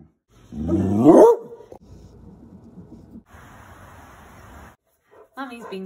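A dog gives one loud rising bark-like yelp up close, then goes quiet under low background noise before a few sharp yips at the end, with a person's voice also present.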